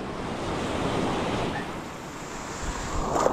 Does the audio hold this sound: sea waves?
yes